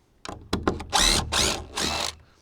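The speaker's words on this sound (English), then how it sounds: "I'm gonna screw the hinge in place so that way we don't have to drop it." A power drill drives screws to fix a gate hinge in place, with a few quick clicks followed by three loud, close whirring bursts, each around a third of a second, separated by short pauses before quiet.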